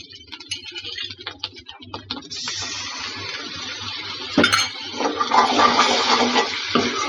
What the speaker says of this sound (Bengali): এখন আমি সামান্য জল দিয়ে দিব।